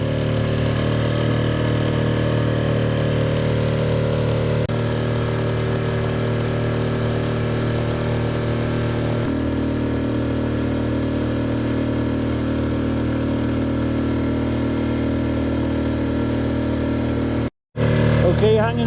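The outboard engine on a small inflatable tender boat drones loud and steady, carrying three large people into the current and wind. The pitch shifts twice as the throttle changes, and it cuts out briefly near the end before picking up again.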